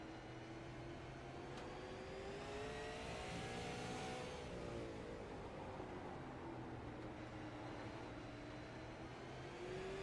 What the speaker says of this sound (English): You can hear just off the throttle for a long, long time here in these tight turns